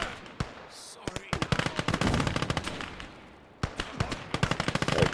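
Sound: machine gun fire in Gates of Hell: Ostfront video game

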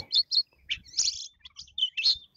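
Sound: manggar songbird chirping

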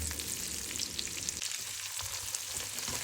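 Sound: leftover adobo sautéing with onions, garlic and ginger

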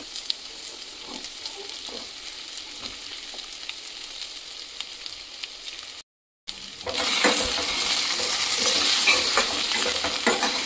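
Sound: sweet potato pieces frying in a kadai

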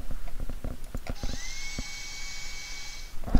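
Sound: drill sound effect MP3 previewed in Flash library

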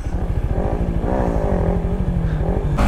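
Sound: Yamaha MT15 motorcycle with stock exhaust riding

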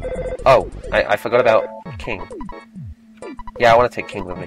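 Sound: telephone ringing in the video game EarthBound

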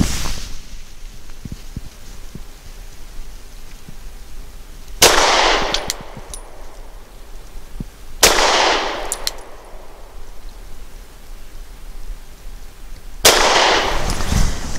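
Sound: Sig P365 XL pistol shots, 110 grain jacketed hollow points

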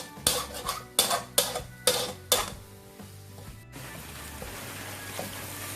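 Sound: riceberry rice added to partly cooked egg in pan, stir-frying

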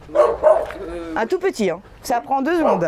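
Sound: dog barking

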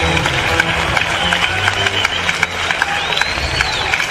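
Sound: concert audience applause

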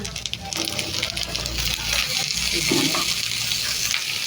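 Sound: ash gourd being cooked in a pan

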